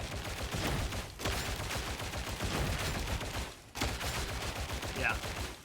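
Ranged weapon fire in a tactical video game sounds as dense, continuous rapid shots, with near-constant bursts broken by two short pauses and mixed with game effects.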